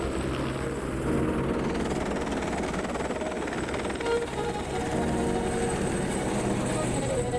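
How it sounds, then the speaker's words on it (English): A landing helicopter's steady rotor roar and engine rumble fill the air nearby in New Zealand's Tongariro area, loud and continuous with a faint thumping pulse. "a helicopter appeared and landed right in front of us"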